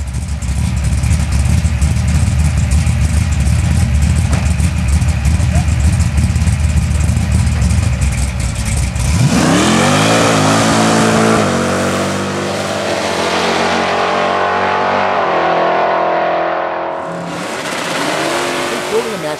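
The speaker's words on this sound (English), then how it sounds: "It's a 1967 Dodge Dart with a 520 cubic inch Hemi engine." A 520 cubic inch Hemi V8 in a 1967 Dodge Dart drag car idles with a lumpy rumble, then roars through several hard revs and drops back, close and powerful.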